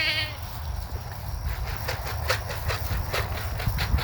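Goats bleating in short repeated calls while being penned and loaded, over steady low rumble, fairly close, with no talking.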